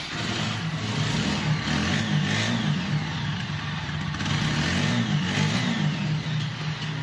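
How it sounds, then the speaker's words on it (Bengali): A black TVS Apache RTR 160 4V motorcycle engine running close up, a steady loud mid-pitched drone that swells with revs, no voices over it. "বাইকটি সাউন্ড দেখতেছেন, দেখাবো বাইকটি সাউন্ড"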